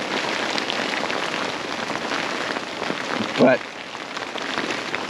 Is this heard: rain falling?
yes